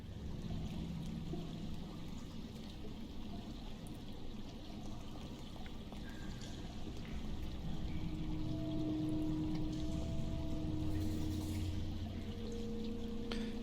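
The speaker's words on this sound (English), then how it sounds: "Can we pour the acid on the chain?" Acid poured onto a chain in the video game Syberia 3, a steady liquid pouring and trickling sound that lasts the whole time over a low ambient game background with soft tonal hums.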